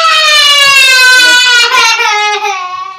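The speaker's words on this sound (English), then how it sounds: "My sister was screaming." A girl lets out a long, loud, high-pitched scream close by that wavers and slowly trails off over about three seconds.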